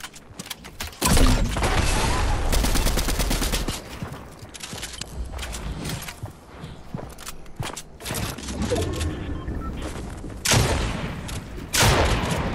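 Fortnite gunfire in loud rapid bursts and scattered single shots, coming in several clusters over about twelve seconds, with faint game sounds between the volleys.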